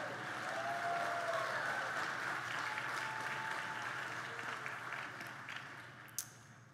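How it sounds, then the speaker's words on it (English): Sustained applause from a large commencement audience welcoming the class of 2017, a steady dense wash of clapping throughout with a faint voice briefly underneath. "You're allowed to applaud."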